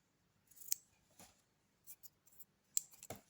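Small embroidery scissors snip thread on a stitched autumn bouquet piece, a few crisp, quiet cuts spaced irregularly in an otherwise silent setting.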